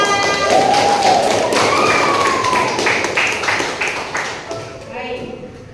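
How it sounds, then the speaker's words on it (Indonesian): Audience applause in a classroom presentation session, a burst of scattered claps and light thumps with a crowd murmur that fades out over a few seconds, with a voice over it. "tepuk tangan"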